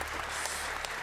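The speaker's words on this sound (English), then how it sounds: "a big round of applause for first Age of Empires 4 finalist, MarineLorD." An audience applauds in a hall at a Red Bull Age of Empires 4 tournament in London, a brief, dense burst of clapping heard at moderate distance.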